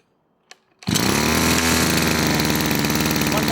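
A small motorized sprayer engine is pulled to start after a couple of faint clicks, catches abruptly and settles into a loud, steady, buzzing run close by.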